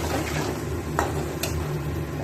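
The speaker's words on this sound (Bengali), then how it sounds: "এবার এটাকে দিয়ে একটু কষাবো, আর দিয়ে দেবো একটা টমেটো এর মধ্যে। এবার একটু কষানো হোক" Pabda fish curry masala with tomato is sautéed in a pan, giving a steady low sizzle with a couple of brief utensil scrapes against the pan.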